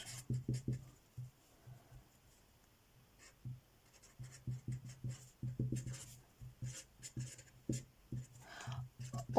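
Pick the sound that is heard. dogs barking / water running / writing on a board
writing on a board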